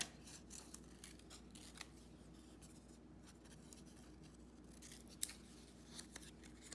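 Scissors cut out a paper fin, producing a steady run of small snips and crisp paper rustles close by, with one sharper snip near the end and no speech.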